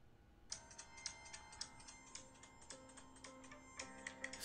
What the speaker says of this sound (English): Sorry, my phone is very loud.